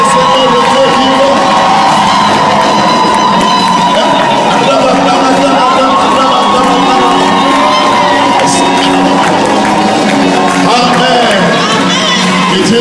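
A large crowd at a church rally in Paris cheers and acclaims loudly and without a break, with shouts and whoops layered into a dense, roaring wall of voices.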